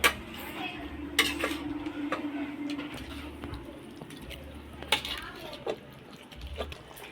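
Country chicken curry being stirred in a pot, with soft scraping and a few sharp metallic clinks of the spoon against the pot, close and fairly quiet over a low background hum.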